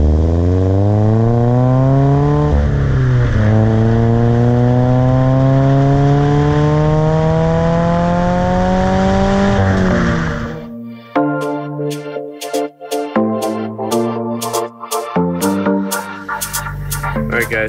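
A Toyota 86 special edition's engine revs up through a true dual exhaust and holds a rising, throaty drone, then drops into a series of sharp blips and crackles from the exhaust.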